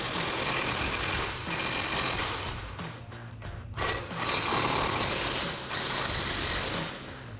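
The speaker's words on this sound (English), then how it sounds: "We're gonna take a 21mm wrench and our impact and 21mm socket and take that off." Impact wrench with a 21mm socket removing the lower rear shock mount bolt on a RAM 1500 pickup, loud rattling hammering bursts with brief pauses between them, no voices.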